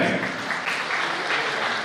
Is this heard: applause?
yes